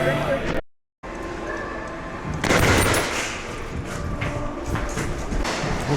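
Airsoft guns shooting on an outdoor field: rapid bursts of dense crackling fire that swell loudly midway, with background music and voices around the shots.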